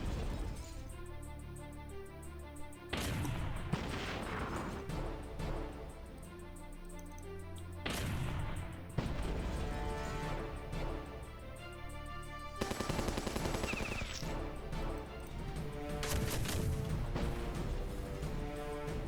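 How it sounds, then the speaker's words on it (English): A barrage artillery attack in the Battle Nations strategy game, heard as dense, loud, repeated bursts of gunfire and blasts that go on over a steady game soundtrack, with several sharp surges. "Hit him with the barrage."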